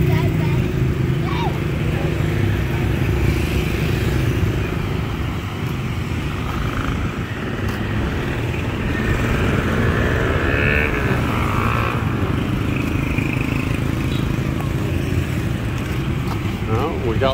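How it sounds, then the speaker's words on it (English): Busy street traffic with many scooters and motorcycles passing, set among tire shops on a windy day, a steady loud engine rumble and whoosh of wind throughout, with voices talking over it. "Lots of scooters"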